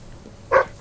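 A single short, sharp dog bark from a dog in the video game Fable III, one brief yelp over quiet game ambience.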